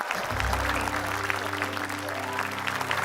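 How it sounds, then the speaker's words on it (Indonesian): Studio audience applause on a comedy game show, a steady wash of clapping over a low sustained hum, fairly soft and continuous. "Boleh kasih tepuk tangan."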